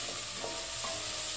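Chopped onions fry in hot oil inside a pressure cooker while cooking salna, a steady, close, dense sizzle that holds evenly throughout with no talking.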